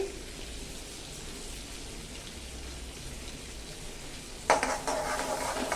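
Mustard seeds and cumin sizzle in hot butter or ghee for dal fry with a soft, constant crackle up close, then a sudden louder burst of spitting and popping near the end.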